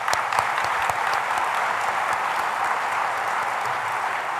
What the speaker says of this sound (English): Let's give a round of applause to the dais.